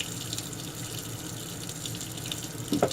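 Water runs and splashes steadily as parts of a Remington 1858 revolver are rinsed and dipped during cleaning, with a brief louder splash near the end.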